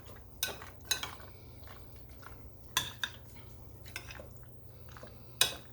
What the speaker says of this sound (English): So I'm going to go ahead and stir this up a little.